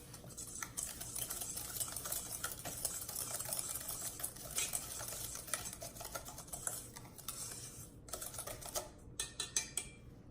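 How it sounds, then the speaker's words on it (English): A pastry cutter works flour and sugar together in a bowl for an apple pie, giving a busy, scratchy stream of quiet scraping and clicking strokes that thin into a few separate taps at the end. "I have my pastry cutter here, and I'm going to use it just to combine the flour and the sugar"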